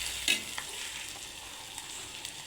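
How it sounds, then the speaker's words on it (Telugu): Onions frying with ginger garlic paste and turmeric in a pan, giving a steady soft sizzle close by, with a brief stirring scrape near the start and a few faint clinks after. "అల్లం వెల్లుల్లి పేస్ట్, ఆనియన్స్ కొంచెం వేగగానే"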